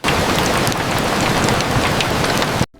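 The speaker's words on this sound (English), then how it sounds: "Raindrops race the window, dreams follow quietly." Heavy rain pours down on a treehouse in a forest, a dense, loud, continuous patter with scattered distinct drops, cutting off abruptly at the end.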